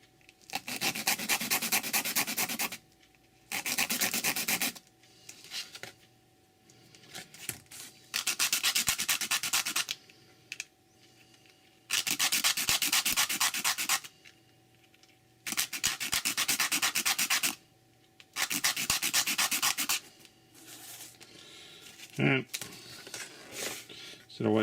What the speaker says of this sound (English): If you can't cut straight, well, use the old sandpaper to finish it off.